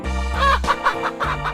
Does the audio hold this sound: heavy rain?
no